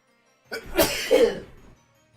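A single sharp human sneeze, close and fairly loud, bursting out with a quick intake and then an explosive release that fades within about a second, with no talk around it.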